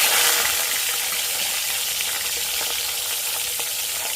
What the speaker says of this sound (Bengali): মাছের মাথাগুলো এবার ভেজে নেব। তেল গরম হয়ে গেছে